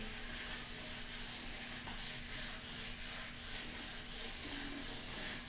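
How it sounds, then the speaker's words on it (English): Steady, rhythmic wet sanding with wet sandpaper on a spray-painted surface, a continuous back-and-forth scratchy hiss at moderate volume with no talking. "This is why it's called wet sanding."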